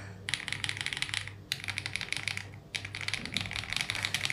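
Bursts of rapid, clacky typing on a keyboard fitted with Akko Lavender tactile switches, a lower-pitched model, in three runs separated by short pauses, close and fairly loud with no talking.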